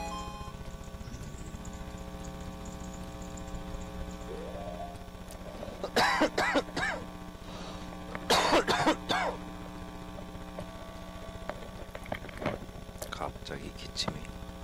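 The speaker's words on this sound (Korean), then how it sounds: "갑자기 기침이." A person coughs in two short, harsh bursts over a steady electrical hum during a Zelda: Ocarina of Time playthrough, with a few fainter clicks after.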